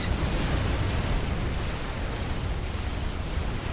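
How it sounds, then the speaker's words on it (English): A big torpedo explosion from the real-time strategy game Supreme Commander: Forged Alliance, a dense, roaring broadband blast that rumbles on evenly for several seconds. "a big explosion to a torpedo comm"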